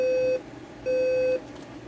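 Two spaced electronic beeps from a General Electric 7-4808A clock radio alarm, the second one longer, sounding close and clear against low room noise.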